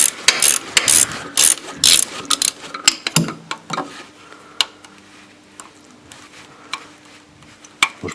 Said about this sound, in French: on apprécie d'avoir une clé à œil à cliquet